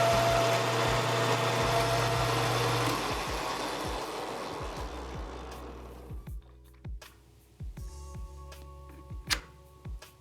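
A lathe turning down a threaded torch holder part, a steady motor hum with cutting noise that fades away as the machine spins down, followed by scattered faint clicks and taps.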